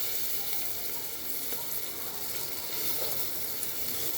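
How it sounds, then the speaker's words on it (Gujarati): Peas and potatoes tipped into a pan of sautéed onions fry with an even, steady sizzle, constant and moderately loud throughout without pauses. "વટાણા અને બટાકા નાખી દીધા છે. હવે એને સાંતળવા દઈશું થોડું."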